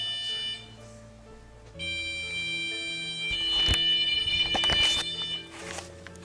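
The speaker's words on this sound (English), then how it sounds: "Why did you set this alarm off?" An alarm sounds at the old Bethlehem Steel works at nightfall, a steady electronic tone holding for several seconds and then rising in intensity, with a few thumps and bursts of noise cutting across it.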